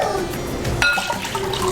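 Shoyu soy sauce is poured into a Japanese noodle salad dressing for somen and soba, a short liquid pour close by with a brief splash partway through.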